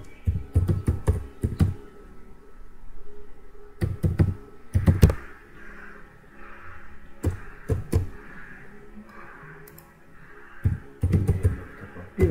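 Fingers tap out a Gmail address on a computer keyboard in quick, uneven bursts of close, crisp keystrokes, with short pauses between clusters and a faint room hum underneath.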